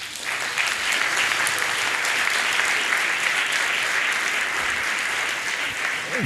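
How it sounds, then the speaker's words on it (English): Guests at the Nairobi Legal Awards Order of the Bar dinner clap in a hearty, continuous round of applause, a thick wash of many hands filling the room at even volume throughout. "give a hearty round of applause to those who made the shortlist but didn't make the top 100"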